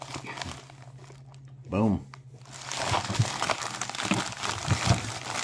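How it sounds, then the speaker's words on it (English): A knife slicing and ripping open a mailed envelope package, crinkly tearing and crunching bursts spread through the clip, with someone talking over them close by. "dude, you're cutting an envelope, and that knife does not even want to do that"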